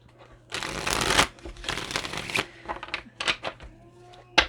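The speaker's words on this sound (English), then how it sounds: "Let me shuffle. I got to shuffle these." Tarot cards are shuffled close up in a few bursts of riffling and flapping, followed by scattered clicks and taps of cards being handled.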